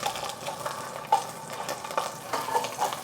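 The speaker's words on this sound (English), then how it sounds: "Once your oil is hot, we're gonna put the onions down." Onions frying in hot oil in a pan, with a quiet close sizzle broken by a few soft bursts and crackles, heard alone without any talking.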